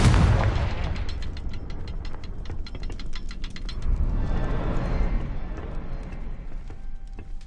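A Confringo blast spell explodes in a Harry Potter video game: a loud booming burst at the start, followed by crackling debris and rumbling echoes that slowly fade.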